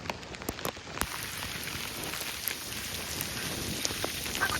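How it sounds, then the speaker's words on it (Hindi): Heavy rain pours down steadily, a dense, loud wash of drops spattering nearby surfaces with occasional sharper hits, no voices. "इतनी ज्यादा बारिश हो गई"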